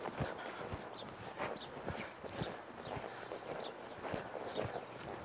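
A horse lopes around a barrel pattern, its hooves striking the ground in a steady, repeating rhythm at moderate distance, with no talking.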